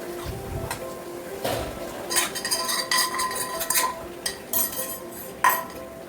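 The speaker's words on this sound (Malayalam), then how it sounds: "എല്ലാം കൂടി നന്നായിട്ടൊന്ന് മിക്സ് ചെയ്തെടുക്കാം." A utensil stirs chicken and masala in a pan, making irregular metallic scrapes and clinks against the pan at close range, alone with no talk.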